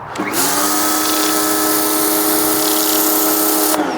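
An Ava Go P55 pressure washer fitted with its turbo nozzle cleans paving slabs, a loud, steady hissing whine that starts abruptly, holds for about three seconds and cuts off.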